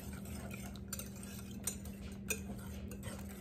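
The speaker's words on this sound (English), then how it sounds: "I'm going to go ahead and whisk that all in" A whisk beats an egg mixture with Parmesan cheese in a bowl, producing quick, light rhythmic clicks and scrapes, close and fairly soft, with no one speaking.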